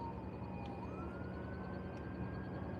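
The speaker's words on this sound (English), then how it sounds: "There's an ambulance coming." An emergency siren in Northeast Arkansas wails faintly in the distance, its tone slowly sweeping up under a heavy, steady rumble of low background noise.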